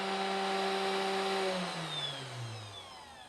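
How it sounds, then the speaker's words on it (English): A 3018 CNC router's upgraded spindle whirs at about 10,000 RPM, a steady high motor whine with clear tonal lines that slowly drop in pitch as the spindle slows, close and alone with no talk. "so I just have the spindle turned"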